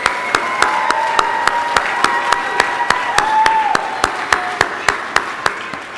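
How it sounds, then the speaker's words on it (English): Applause at a youth camp awards ceremony, with sharp claps recurring at an even beat over a steady background and a faint sustained tone running underneath. "Let's give them a round of applause."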